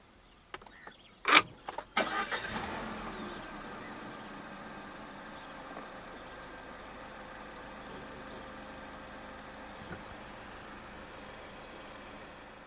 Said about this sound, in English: Put your foot on the brake and press the start button just ahead of the gear lever.